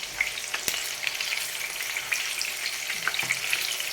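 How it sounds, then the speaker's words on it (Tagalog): Tofu fries in a hot pan with a steady, close crackling sizzle peppered with sharp pops and spatters, continuing without pause and with no voices. "nagpipirito na nga po pala tayo ng tokwa"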